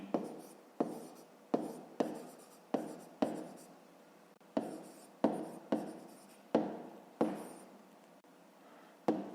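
A pen writes by hand on paper in a quick series of scratchy strokes, each short stroke starting sharply and trailing off, close and fairly quiet with brief pauses between them.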